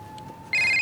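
A telephone rings for Dev's call, its bright electronic tone cutting in loud and close about halfway through after a quiet stretch with a faint steady hum.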